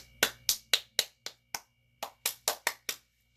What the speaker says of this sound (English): Should give a louder clap than that.